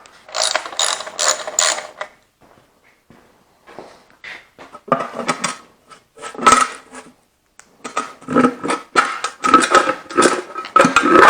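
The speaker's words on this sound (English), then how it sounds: "I'm going to get this valve cover off, get the head off and see what it looks like inside" Valve cover coming off an Allis Chalmers C tractor engine: clanking metal, ratcheting wrench clicks and tools rattling in irregular bursts, close and fairly loud, with brief pauses between.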